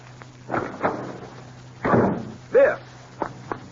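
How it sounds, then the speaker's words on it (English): In an old-time radio drama, a front door is slammed as someone rushes out, giving several close thumps and knocks spread over a few seconds against a faint hum. "Panic-stricken Biff rushed from the table and out the front door."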